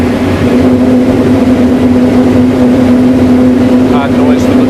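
Steady roaring wind noise from an Aero roof bar on a car driving at high speed, a constant loud rush with a sustained low hum throughout.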